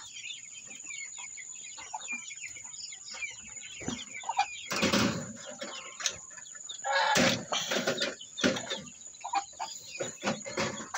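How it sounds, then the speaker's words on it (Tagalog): Poultry in a small backyard farm pen, including ducks, call with repeated clucks and quacks near and far, with bursts of flapping and louder calls mid-way and toward the end; no talking. "Ito mga itik."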